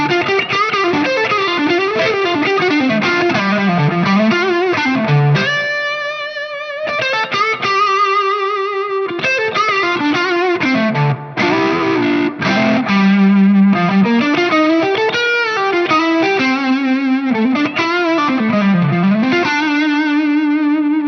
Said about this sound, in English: if I stay with that heavy gain sound and put the Archer on top of it, you're going to hear that it really is just a nice, smooth, modern sounding guitar